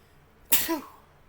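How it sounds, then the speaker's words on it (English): A single sharp sneeze bursts out close by, a sudden noisy blast that trails off quickly into quiet. "I hate my sneezing when I'm sick"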